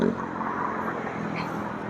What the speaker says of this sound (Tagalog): Pahirapan sa pagtawid kasi ang mga sasakyan ang bilis tumakbo.